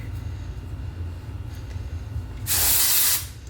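A can of texture spray released onto hair in one strong, close hiss lasting under a second, rising sharply out of a quiet room with a faint low hum.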